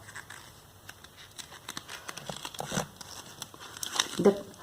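Sheet of paper being folded into equal halves, with soft crinkling and crumpling rustles close by, a few sharper creases toward the end.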